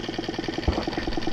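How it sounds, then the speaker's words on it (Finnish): A nearly new Tohatsu 6 hp outboard boat motor runs close by, a steady, fast, even chugging pulse with a faint knock. "nyt on ekaa kertaa testaamassa Tohatsun moottoria"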